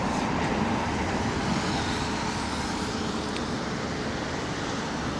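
A British Airways A320neo under tow at London Heathrow Airport: a steady, broadband vehicle rumble with continuous low-end drone and hiss, moderately distant and unchanging across the few seconds, with no voices.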